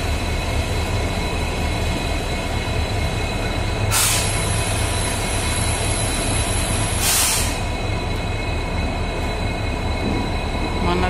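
A WDG3A diesel locomotive hauls a train through Narasapur railway station with a loud, steady rolling roar, broken twice by brief high-pitched wheel squeals.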